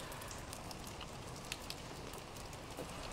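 Steady rain falls just outside a long-roofed shelter, a dense even hiss with scattered louder drips, heard close and without any talk.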